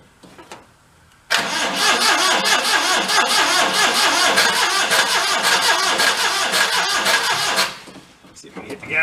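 The worn, blown engine of a clapped-out Daihatsu mini truck cranks and catches on a cold start with the choke on, then runs loud and close at a rough, busy idle for several seconds before cutting out, while people talk.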